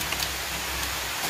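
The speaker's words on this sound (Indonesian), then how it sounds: "Oh, hujan. Hujan tu." Rain falling outdoors, a steady, soft hiss of drops on surfaces with faint scattered patters, continuous for the short stretch.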